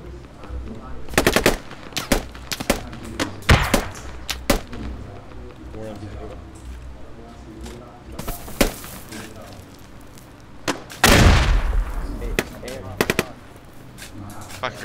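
Gunfire in the military shooter Squad: scattered single shots and short rapid bursts, some close and sharp, others more distant, plus a heavy boom near the end, with players talking throughout.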